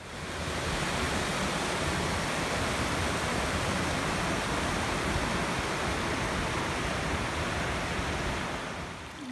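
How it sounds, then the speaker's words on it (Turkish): A stream flows beside a dirt hiking road in the Sapanca highlands, giving a steady, loud broadband rush of running water that holds constant throughout with no voices. "Yan tarafta deremiz var."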